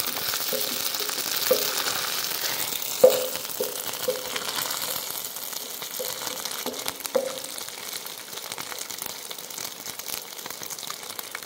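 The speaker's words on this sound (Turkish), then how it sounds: "güzel gene kuyruk yağımızı biraz kızartalım" Tail fat sizzles and crackles steadily in a hot pan, with occasional soft pops and clinks.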